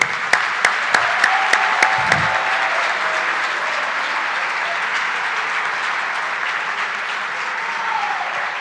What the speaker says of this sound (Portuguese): eu gostaria que vocês dessem uma salva de palmas para os chefes de delegações das atléticas